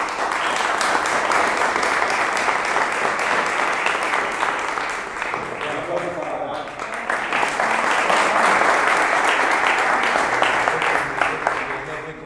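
Sustained audience applause for Julián Higuita at a talk in Medellín, a loud, full roar of clapping from a large crowd that runs unbroken for about twelve seconds, dipping slightly midway before swelling again.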